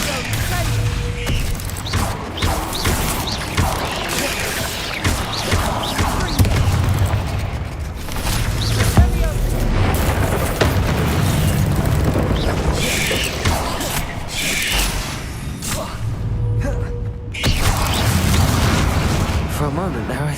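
The Bombarda explosion spell goes off in Hogwarts Legacy as a run of heavy booms and crackling blasts layered over dense, continuous game noise, loud and close throughout.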